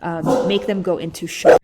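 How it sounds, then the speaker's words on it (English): A pet dog barks a few times in the background, brief yips and bow-wows mixed under and after a person's continuous lecture-style speech. "That was my dog barking."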